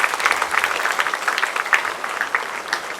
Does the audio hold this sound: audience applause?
yes